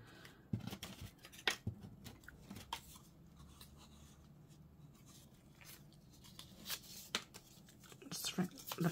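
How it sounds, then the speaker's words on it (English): Paper is torn by hand while making junk journal clusters, irregular crisp ripping and rustling bursts, close and moderately loud, with scattered handling noises. "Just rip the bottom as well, so they both ripped."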